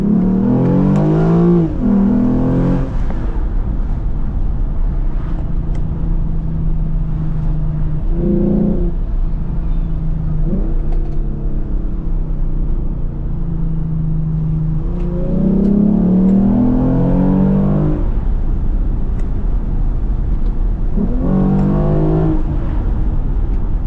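A tuned Lexus IS350 with full bolt-ons ripples through repeated hard revs and acceleration pulls on country backroads, loud and close, with an interior engine drone between bursts.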